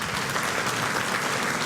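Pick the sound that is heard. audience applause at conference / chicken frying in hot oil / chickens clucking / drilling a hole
audience applause at conference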